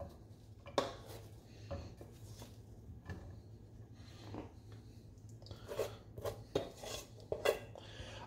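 A spoon scrapes and knocks against a pot as rice is dumped in. Faint, irregular clinks and scuffs come in a loose scattered rhythm over a low hum.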